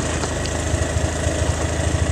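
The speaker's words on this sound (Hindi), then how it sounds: "गाड़ी इंजन बंद कर लो" A car engine idles close by at a steady low rumble with a regular pulsing throb, running alone without talk, while stopped at a temple site in Behta Bujurg near Kanpur.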